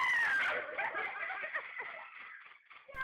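A zombie jumpscare scream, shrill and piercing at the start, then breaking into ragged, clucking cries and fading over about three seconds.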